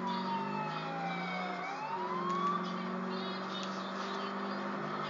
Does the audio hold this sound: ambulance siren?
yes